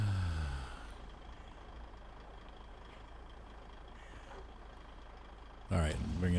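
Crane truck in the Snowrunner game easing into position, a steady low engine drone with faint beeping over it and a brief louder burst at the end.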